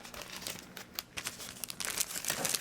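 Thin plastic sandwich bags crinkle and rustle close up in a continuous, irregular burst of crackles with a few louder crunches, no voices.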